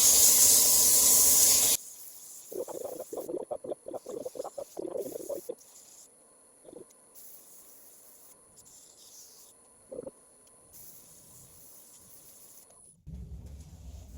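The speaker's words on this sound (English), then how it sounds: "I'll sand it with 150 first." Bursts of raspy, hissing friction from 150-grit sandpaper against mahogany spinning on a lathe, with short scratchy passes and pauses of quieter machine hum between them.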